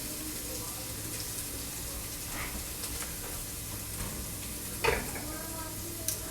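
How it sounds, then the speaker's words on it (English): Ground beef and freshly added vegetables sizzle steadily in a pan, a constant close frying hiss with one brief clatter near the end and no one talking. "I'm gonna pour in these lovely vegetables. Let them start cooking up with this ground beef."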